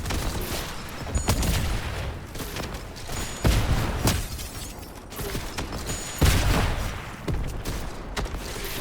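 Explosive blasts from a rocket launcher in the Fortnite Backrooms roguelike game, several loud booms spaced a few seconds apart amid continuous gunfire and mechanical clatter.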